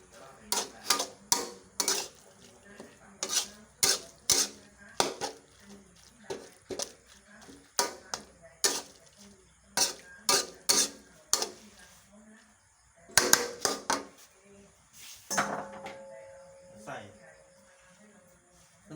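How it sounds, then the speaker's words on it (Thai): Spoon scraping and clinking in a pan while Thai pork larb is mixed with the heat off, a steady rhythm of sharp close taps, a voice speaking briefly near the end. "คนไม่ต้องเปิดไฟนะเพราะมันสุกแล้ว"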